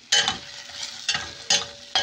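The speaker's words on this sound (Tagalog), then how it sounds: "Yan, prito na siya guys." Hot oil sizzles steadily as round scad (galunggong) fries, with several sharp scraping stirs of a utensil in the pan at irregular intervals.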